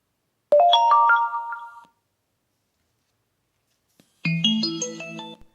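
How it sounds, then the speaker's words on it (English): A Betron XR-77 speaker plays its power-on chime, a bright rising run of tones, then after a silent pause a second fuller chime of stacked notes, clear and alone. "Turning on the speaker gives you a little chime which indicates that it is turned on."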